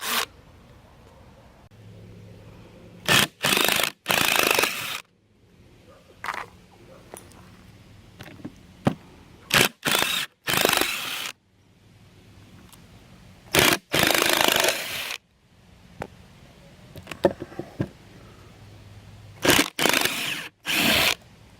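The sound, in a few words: removing screws from a salvaged device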